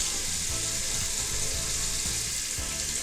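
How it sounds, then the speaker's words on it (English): A paintbrush being worked into soap, wet squelching and rubbing through the bristles in a steady rhythmic churn of about five strokes, close up under a constant hiss of running water. "what I do is work the soap in between the bristles"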